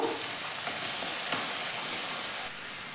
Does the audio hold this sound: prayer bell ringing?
no